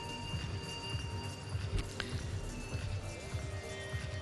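Hoofbeats of a horse at an international show jumping competition, a steady run of muffled thuds over arena ambience, with no talking.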